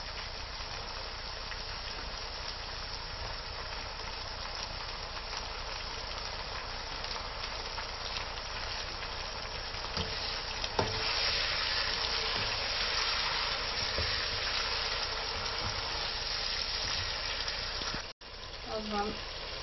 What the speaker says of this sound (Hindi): हम साथ ही टमाटो भी डाल देते हैं ताकि साथ ही टमाटो भी फ्राई हो जाए।